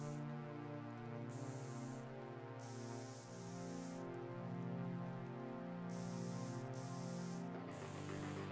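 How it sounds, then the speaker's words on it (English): Steady hiss of rain falling in a base-building video game, a continuous wash that runs under a layered, looping game music track throughout. "And it's raining again."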